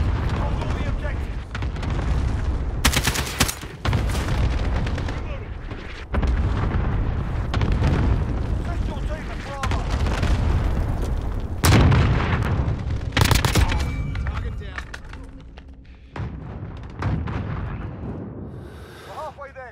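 Mortar strike impacts pound the battlefield in a Call of Duty: Modern Warfare Domination match on Cheshire Park, dense booms and bursts of gunfire overlapping loudly in near-continuous barrage, with voices calling out in between.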